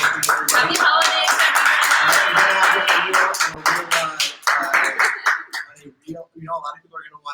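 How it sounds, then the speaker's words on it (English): Live holiday show audience clapping, dense and loud at first with cheering voices mixed in, then thinning to scattered claps and trailing off as talk resumes. "can we clap it up for me?"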